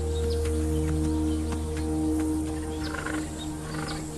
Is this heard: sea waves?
no